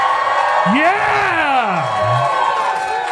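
A live event crowd cheers and makes noise, led by one loud, close, drawn-out whooping yell that swoops up and down in pitch over a background of crowd shouts.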